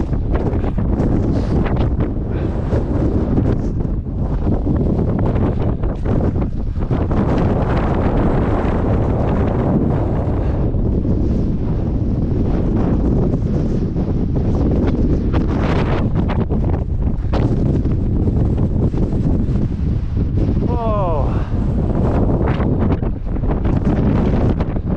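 Strong wind buffets the microphone on the Tongariro Alpine Crossing, a loud, continuous roaring rumble with gusty surges throughout.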